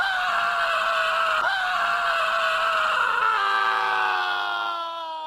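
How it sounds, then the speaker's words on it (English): Scream from the Mortal Kombat video game when a fighter is hit by Shao Kahn's hammer: one long, loud, strained wail that slides downward in pitch and fades at the end, with no other voices. "the loudest goddamn scream in the game is when you get hit with a hammer"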